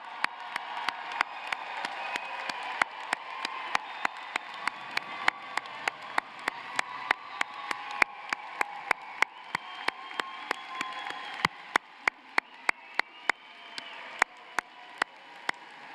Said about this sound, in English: I want one more joyous and raucous round of applause